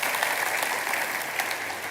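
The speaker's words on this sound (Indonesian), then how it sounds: "kasih tepuk tangan untuk Tuhan Yesus" A church congregation applauds during a sermon, many hands clapping in a thick, continuous wash that stays loud and steady for the whole stretch.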